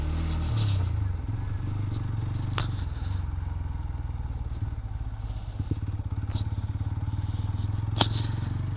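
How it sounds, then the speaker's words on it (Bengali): A motorcycle rides through Jamuna Eco Park near Jamuna Bridge with a steady close engine drone, joined by occasional clicks and light rattles from the bike over the rough ground. "বাইক নিয়ে ঘুরছি।"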